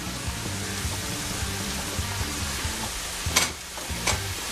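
Ground beef cooks with carrots and onions in olive oil, giving a dense, steady sizzle close by, broken by two brief sharper bursts of scraping near the end.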